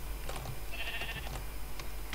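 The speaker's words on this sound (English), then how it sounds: "I'm dragging a sheep with me," A sheep in the video game Minecraft bleats once, a short wavering cry heard over a constant low background hum, with no talking.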